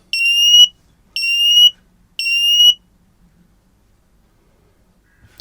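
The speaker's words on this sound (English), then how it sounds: "a brand new fire angel, carbon monoxide and fire detector." A FireAngel carbon monoxide and fire detector in a caravan sounds three loud, high-pitched test beeps at even intervals, each about half a second long, followed by near silence and a faint click.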